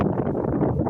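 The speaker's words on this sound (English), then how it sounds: "But as you can see, it's super windy." Strong wind buffets the microphone in an outdoor garden on a stormy day, a loud, continuous rumbling gust through the whole short moment.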